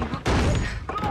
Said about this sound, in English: That was a gunshot, wasn't it?